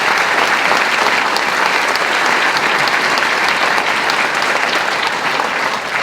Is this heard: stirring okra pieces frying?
no